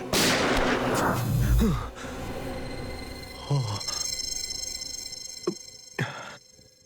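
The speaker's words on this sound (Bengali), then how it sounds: "shoot Abhijit, shoot" Gunfire rings out in a Bengali TV crime drama: a loud blast opens, then several sharp single shots follow a second or two apart, each with a short echoing tail, over a faint background.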